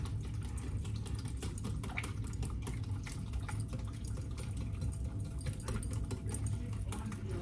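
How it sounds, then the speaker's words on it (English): Waffle batter with vanilla and melted butter whisked in a bowl, making a continuous, even, moderately loud wet churning with rapid faint ticks throughout. "let's get this whisked up here"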